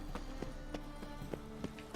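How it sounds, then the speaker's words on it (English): Horse hooves clip-clop in a quick, even rhythm in the video game The Witcher 3: Wild Hunt, a run of crisp, close hoof strikes heard alone. "I love those little horses."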